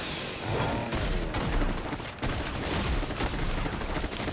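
Dense, continuous gunfire in a video game rattles on without a break, with overlapping shots and bursts that fill the whole stretch at a loud, steady level.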